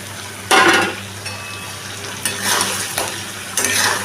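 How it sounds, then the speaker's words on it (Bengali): Pointed gourd being stir-fried in oil with spice masala, heard up close. Bursts of sizzling and scraping come with each stir, separated by quieter hissing pauses. "আবারও আমি মশলাটার সাথে এবার পটলগুলোকে ভালো করে কষিয়ে নেব"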